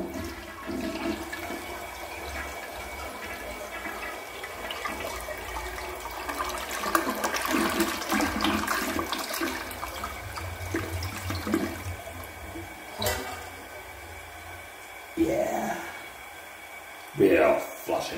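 A vintage 1954 Crane Drexel toilet in a church restroom flushes with a long rushing swirl of water that fades into gurgles and refill trickles, with a voice talking faintly at moments.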